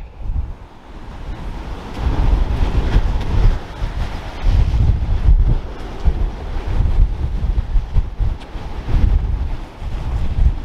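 Strong gusting wind buffets the microphone on a seashore at night during sole fishing at Southsea, with low rumbling surges that rise and fall and the sea faintly beneath, and no talking.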